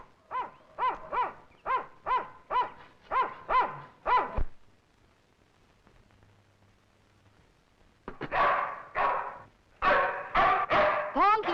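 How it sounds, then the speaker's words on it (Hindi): A dog barks in a quick, steady series of about ten barks, goes quiet for a few seconds, then resumes with more barking. "भौंक ले, जितना जी चाहे भौंक ले।"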